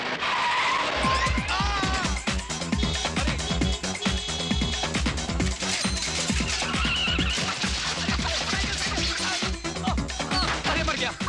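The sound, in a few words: car driven fast with tires skidding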